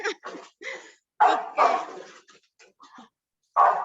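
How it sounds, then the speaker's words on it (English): Several sharp dog barks come in uneven bursts, fairly close, with gaps of quiet between them and a brief spoken word. "Sorry for my dog."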